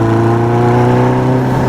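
A Kawasaki Zephyr 750 motorcycle engine with freshly changed carburettor jets runs at a loud, steady idle close by, a constant droning hum with no revving or talk.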